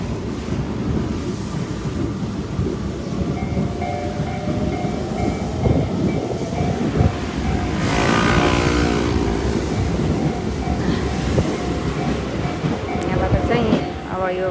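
A train rumbling through a railway crossing, a broad, loud roar with rattling that swells in the middle, a steady tone running through it, and a voice talking over parts of it.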